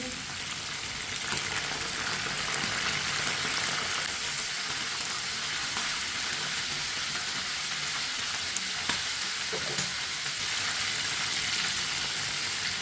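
Chicken pieces fry in a pan over high heat, giving a steady, dense sizzle with crackling that runs throughout, close and moderately loud with no voices.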